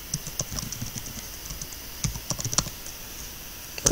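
Typing on a computer keyboard while writing CSS and PHP code: scattered close clicks and clacks in short irregular bursts, quiet and alone.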